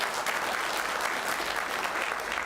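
Applause from the audience at a county commission zoning meeting fills a large hall as steady, dense clapping, moderately loud and uniform from start to finish.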